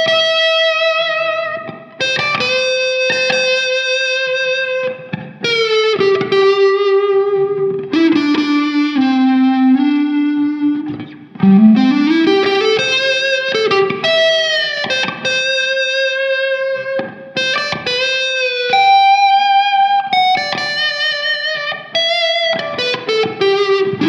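Harley Benton ST-62SB Vintage Series electric guitar played through its neck pickup, a continuous melodic line of sustained, bending notes with effects coloring, loud and alone for the whole stretch.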